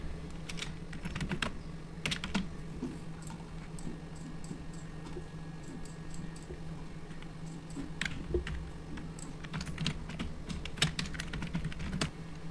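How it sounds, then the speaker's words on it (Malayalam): Steady computer keyboard typing, with clustered key clicks and occasional sharper strikes continuing over a low steady hum, close and fairly clear. "രണ്ടാമത്തെ ആളുടെ ഡീറ്റെയിൽസ് നമ്മൾ ടൈപ്പ് ചെയ്ത് കൊടുക്കാം"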